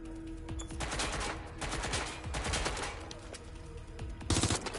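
Gunfire in the video game Watch Dogs, dense rapid bursts of automatic shots layered with impacts and chaotic action noise, loud and continuous, with a sharper burst near the end.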